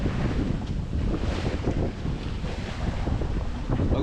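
Strong headwind buffets the microphone aboard a sailboat racing in rough conditions in the Round the Island Race 2024, a loud continuous roar with rushing water and waves underneath.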